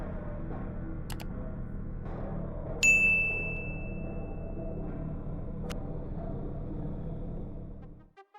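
A bright notification bell dings once, ringing out and fading over a couple of seconds above a low rumbling background, with a few faint clicks before and after.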